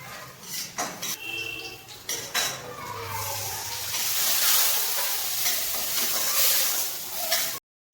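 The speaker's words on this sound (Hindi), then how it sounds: "मसाले हमारे अच्छे से भून रहे थे" Spices with turmeric, chilli and vegetable masala sizzle and fry in a pan for beetroot curry, with a few clinks and scrapes of a spoon against metal before a steady hiss builds and then cuts off.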